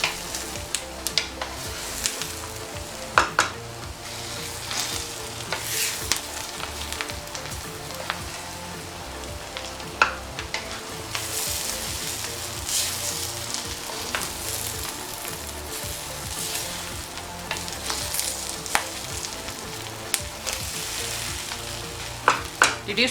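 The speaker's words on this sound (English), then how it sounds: "So I'm going to stir it together. Just mix all." Nigerian jollof rice sizzles and fries in a pot while being stirred, a constant close crackle with scraping and clinking spoon strokes throughout.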